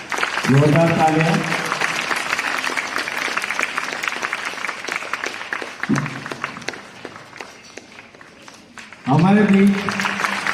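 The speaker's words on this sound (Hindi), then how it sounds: "जोरदार तालियां।" Loud applause from an audience at a Diwali fancy dress distribution ceremony in Pushkar, opening in a strong burst, dipping into a steady clatter with a voice speaking over it, then swelling loudly again near the end.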